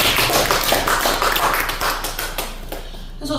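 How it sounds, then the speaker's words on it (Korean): A church congregation at a Korean Friday night worship service claps for their pastor, a dense, steady patter of many hands filling the room, tapering slightly toward the end. "우리 목사님 박수 한번 주시면 좋겠습니다."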